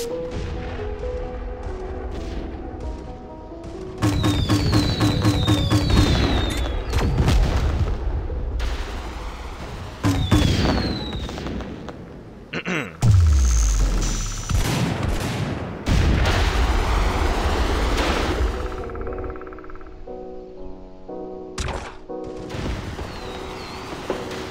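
Landau cannon firing in the mobile shooter Tacticool, heard as heavy booming blasts and bursts of gunfire with explosions. Loud impacts recur over a long stretch, mixed with game effects and brief quieter gaps.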